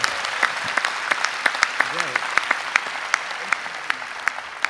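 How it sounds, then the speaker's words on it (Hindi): Loud audience applause at a Hindi poetry recital, dense steady clapping from a large crowd with sharp individual claps standing out near the front and a brief voice heard underneath. "आइए एक बार जरा जोरदार तालियां बजा के।"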